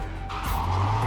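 A car in the video game Cyberpunk 2077 braking hard, its tires squealing and skidding loudly for about a second over the engine, close and alone.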